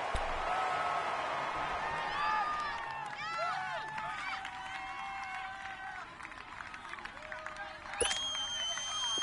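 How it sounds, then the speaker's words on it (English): Stadium crowd noise in an American football video game at Arrowhead: a steady, distant roar of a large crowd holds through the whole stretch, with scattered cheers and whistles rising above it, and a commentator's voice talking over it. "this is where the Arrowhead crowd can make it very tough"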